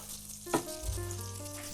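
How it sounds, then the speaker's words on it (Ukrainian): Butter melting and frying in a heated pan, a soft continuous sizzle that starts with a small clatter as it hits the surface and then hisses steadily at low volume. "Нагріли сковорідочку, додаємо вершкове масло."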